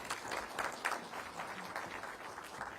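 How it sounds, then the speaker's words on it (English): An audience at the India Today GI Samagam event gives a short burst of steady applause, moderately distant and without voices over it. "Let's give Amitabh Kant a really warm round of applause"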